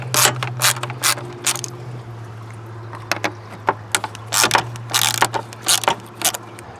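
A ratchet works on fan shroud bolts on a Nissan Titan, with bursts of rapid clicking separated by pauses over a steady low engine-like hum, close and loud without speech.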